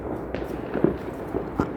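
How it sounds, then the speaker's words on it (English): Distant fireworks on New Year's Eve in Tirana pop in scattered, muffled bursts, four or five faint booms spread over a low city background hum. "I expect we'll hear little bits of fireworks for the rest of the night."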